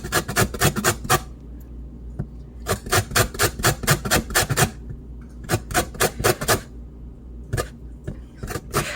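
Citrus fruit is rubbed against a zester in rapid bursts of rasping strokes, close and crisp, with short pauses between runs.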